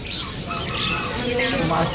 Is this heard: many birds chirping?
yes